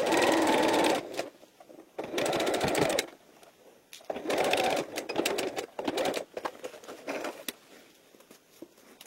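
A sewing machine stitches fabric for a belt bag in short bursts of rapid mechanical whirring, stopping and starting several times, close and clear with quiet pauses between runs.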